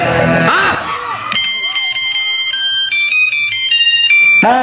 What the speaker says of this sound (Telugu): ఫోన్ వచ్చింది, మాట్లాడు.